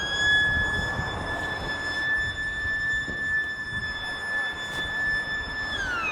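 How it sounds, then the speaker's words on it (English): A school siren in Tinajo, Lanzarote, sounding at morning break: one long, steady electronic tone held for about six seconds, heard from a distance over outdoor street ambience before cutting off. "That's the sound of the school"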